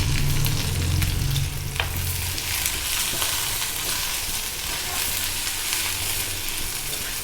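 Ivy gourd with turmeric and salt sizzles and crackles steadily in a pan, an even frying hiss close by with an occasional scrape of stirring.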